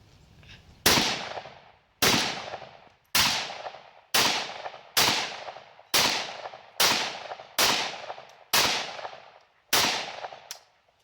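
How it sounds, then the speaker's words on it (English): Ten sharp airsoft rifle shots from an I.O. Inc. AKM-247 fired at a 35-yard target, spaced roughly one second apart, each a loud crack with a short decaying tail and quiet gaps between. "So I counted off 10 rounds afterwards, so it took me, what, 10 shots to get it."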